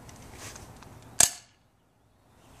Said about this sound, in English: Nick, go ahead and fire them off.